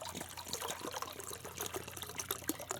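Boiled water splashes and trickles as it is poured out outdoors beside a small camping stove, a faint, continuous liquid sound with no voices.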